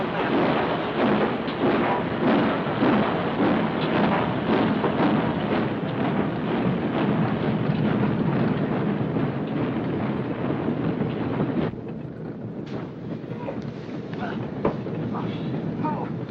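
A steady, loud rumbling roar of a passing train fills the clip, then drops slightly in level toward the end.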